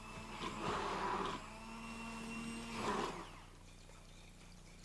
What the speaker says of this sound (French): versez le contenu du sachet numéro 1 dans environ 150 ml d'eau tiède et brassez à l'aide du